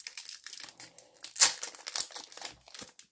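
A Pokémon Lost Origin booster pack is torn open by hand, with crisp foil crinkling and crackling and one sharp, louder rip partway through, up close and with no talking.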